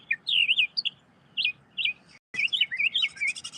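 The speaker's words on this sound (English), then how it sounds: "look at this bird. Just came here to sing for me" A single bird sings close by in rapid, warbling bursts of high chirps, pausing briefly between phrases, over a faint low background hum.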